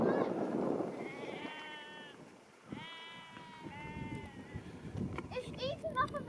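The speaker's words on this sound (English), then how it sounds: "People own these paddocks and keep their sheep." Sheep in a farm paddock bleat repeatedly in long, wavering calls, several overlapping and fairly close, over murmuring voices and outdoor background noise.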